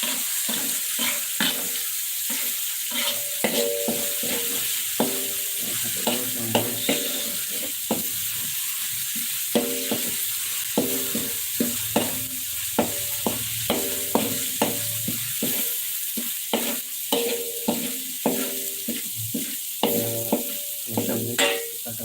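Onions sautéing in a pan for Aceh yellow sea-fish curry, a continuous loud sizzle with frequent sharp clacks and scrapes of a stirring utensil throughout.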